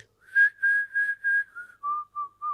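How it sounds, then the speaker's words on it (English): Shaman's whistled melody in a Peruvian ayahuasca ceremony: a clear, close, solo tune of about eight sustained notes, each a bit lower than the last, with no talk over it. "they just whistle to you all the time and you get deep in the journey"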